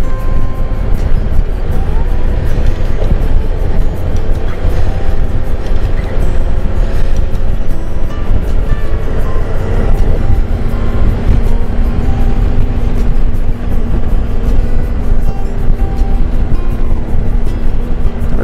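A motorcycle cruises through the countryside on a leisurely ride from Kürten toward Altenberg, its engine drone and wind rush forming a loud, continuous roar that holds steady the whole way.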